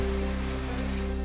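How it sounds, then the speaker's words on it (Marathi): Unseasonal rain falling in Sindhudurg, a steady even hiss of rain on surfaces with no breaks across the short stretch. "दोडामार्ग तालुक्यामध्ये अवकाळी पाऊस"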